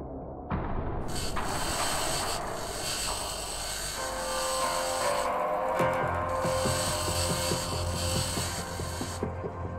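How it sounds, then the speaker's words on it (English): A grinder cutting through scrap in the Occupy Mars video game gives a steady high-pitched whine with a layered mechanical hum, starting abruptly and then changing pitch partway through, and it runs continuously with no talking. "Pick up the grinder."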